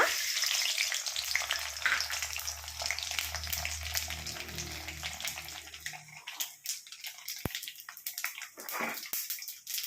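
Mustard seeds dropped into hot sesame oil, a loud close crackling sizzle with sharp popping bursts, over a low hum that stops partway, and sparse sharp spatters toward the end.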